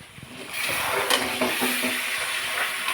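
Onion and garlic paste hitting hot oil in a pan, a sudden loud sizzle that bursts in and keeps crackling steadily, with a few stirring scrapes.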